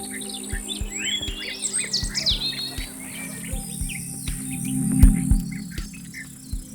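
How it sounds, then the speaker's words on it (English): Birds in Alabama sing busy, overlapping chirps and trills close by. Steady insect buzzing and faint rhythmic low thumps run beneath the song. "Listen to the song they sing."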